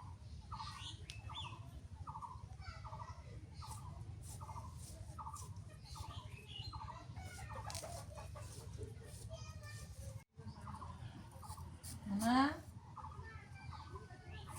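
Chickens cluck around a rural Bangladeshi homestead, giving a steady run of short, repeated calls over low background noise, with a louder sharp squawk near the end.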